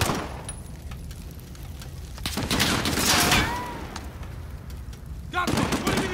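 Gunfire pops and crackles in a Call of Duty: Modern Warfare firefight, scattered bursts heard at mid distance while soldiers shout and talk over the shooting.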